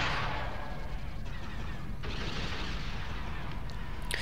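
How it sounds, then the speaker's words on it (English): A concussion missile launcher fires in the space battle game Star Wars: Empire at War, giving a continuous dense rumble of launches and impacts with a few sharper blasts, steady and fairly loud throughout. "The missiles are coming from the concussion missile launcher there"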